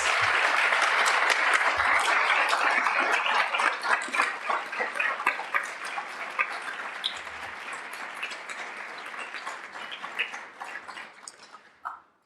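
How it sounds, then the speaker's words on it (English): A school board meeting audience gives a round of applause for seven honored individuals, steady and dense clapping that carries for about ten seconds before thinning and fading out at the end. "join me in a round of applause for these 7 individuals"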